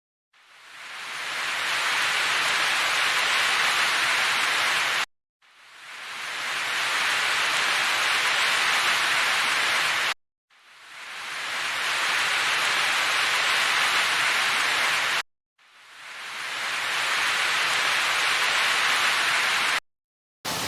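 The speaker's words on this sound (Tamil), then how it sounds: "ஒவ்வொரு நாளும் ஒரு மாதிரி மழை பெய்யுது" Heavy rain falls outside an apartment in Chennai: a steady, dense hiss that swells and runs in roughly five-second stretches separated by brief breaks. No voices are heard.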